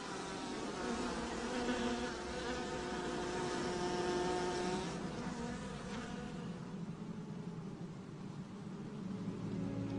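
A dense, steady buzzing of many bees fills the air up close, a continuous droning hum with slight swells, from a hive inside a fruit tree trunk.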